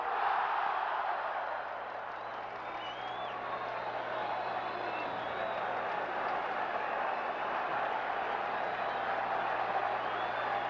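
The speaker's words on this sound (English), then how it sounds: "Now that home run by Dower, that's woke the crowd up too." A baseball stadium crowd at Game 7 of the 1979 World Series, Pirates at Orioles, roars after a home run: a steady, dense wash of distant cheering that holds without a break.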